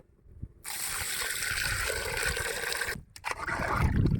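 Water pours steadily into a pot of country chicken curry for about two and a half seconds, a loud rushing trickle close by, followed by a short pause and a few more splashes and clatters.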